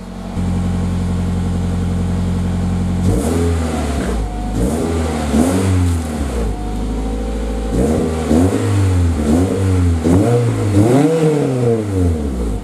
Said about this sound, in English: I'll give you guys a little rev and see you guys like it.